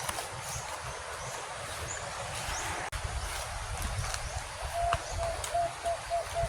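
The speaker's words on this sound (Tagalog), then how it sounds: "nag-iingay yung ibon ni tatay" Bird calls ring out repeatedly against a steady outdoor background hiss, a thin repeated note standing out near the end.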